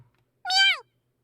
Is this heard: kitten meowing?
yes